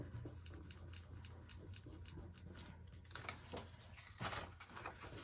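A folded paper pop-up birthday card is rubbed firmly by hand, making faint, close, repeated brushing and scuffing strokes in a quiet room, with a slightly louder swipe near the end.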